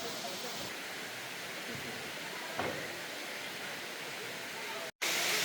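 Waterfall in a Thai jungle, a steady broadband rush of falling water that stays loud and continuous close by, with a brief knock midway and a short dropout near the end.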